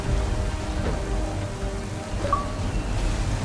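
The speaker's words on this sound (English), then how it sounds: "There's a storm coming, Captain. Feels like a big one." A storm at sea in Assassin's Creed 3 brings steady heavy rain hissing on surfaces, with a low rumble of thunder beneath and no voices.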